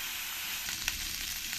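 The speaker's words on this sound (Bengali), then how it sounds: "বেশ লাল লাল করে আমি আলুগুলো ভেজে নেব।" Potatoes fry in oil in a wok with a steady, close crackling sizzle, no voices.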